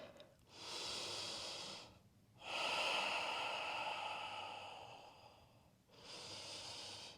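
Slow, deep breathing during yoga sun salutations in downward facing dog: two long, close, hissing breaths with a third starting, separated by short quiet pauses, no talking.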